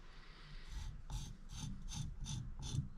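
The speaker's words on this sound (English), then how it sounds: "I'll just pull that up and then kind of get the remaining with a bevel knife" A bevel knife scrapes leftover material from a drilled hole in a bowling ball, a faint, close series of about six rhythmic rasping strokes.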